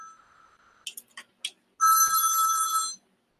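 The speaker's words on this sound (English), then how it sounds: "The God phone is calling." A telephone rings once in a bright, sustained electronic trill, loud and close. A few faint clicks come just before it, and there is no talking.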